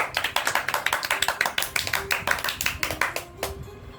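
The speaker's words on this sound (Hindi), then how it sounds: "जोरदार तालियों से इनका भी स्वागत करिए, अभिनंदन करिए" Small audience clapping to welcome a participant at a ghazal evening, sharp individual claps close by in a quick uneven rhythm that thin out near the end.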